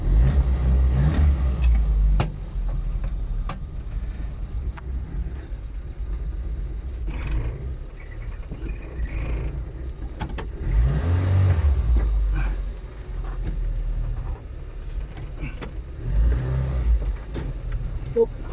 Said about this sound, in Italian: Adesso mettiamo a moto la macchina.